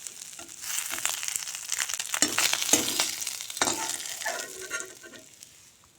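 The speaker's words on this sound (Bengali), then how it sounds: "সবগুলি মাছ এভাবে অল্প অল্প দিয়ে ভেজে নেব।" Small mourola fish fry in hot oil in a pan, cooked village style. A steady, crackling sizzle with bursts of spattering runs close and loud throughout, with no talking.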